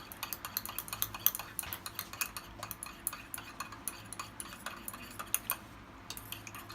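A spoon stirs hot chocolate in a cup, clinking in quick, light, irregular taps that run steadily and stay fairly quiet throughout.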